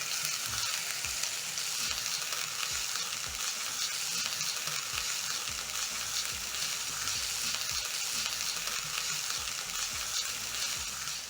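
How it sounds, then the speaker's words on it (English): One small diced onion and four cloves of diced garlic sautéing in a pan: a loud, continuous close sizzle with a steady hiss, and soft stirring scrapes now and then underneath. "Saute the onions and garlic until soft."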